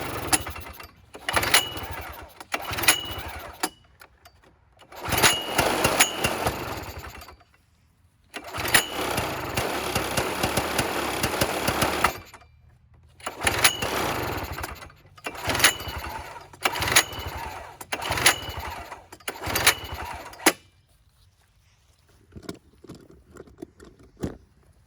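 Small John Deere lawn mower engine sputtering to life after gas is poured into the carburetor, running in loud bursts that cut out and restart several times, near and alone.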